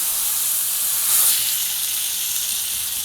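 Fish fries in a hot pan after being flipped, giving off a bright, steady sizzle with a brief swell of hissing near the start.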